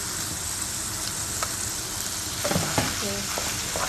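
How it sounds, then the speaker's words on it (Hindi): Pasta and ketchup added to a sizzling pan with chicken, steady frying hiss with a few stirring scrapes and soft thuds near the end, close and without talk. "अब मैं उसमें पास्ता डाल दूँगी और केचप।"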